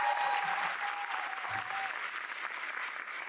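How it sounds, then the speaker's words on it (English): An audience applauds journalist Maria Hinojosa at a public talk, a steady, even roar of many hands clapping from a distance, with a faint voice briefly underneath. "we give a loud round of applause for Maria"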